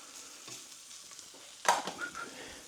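King prawns fry in a pan while being turned, a faint soft sizzle with a sharper scraping stir midway, no talking.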